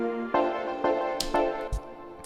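A guitar loop plays in the B section of a song, with a few strummed chords and sustained tones plus light percussive hits near the end.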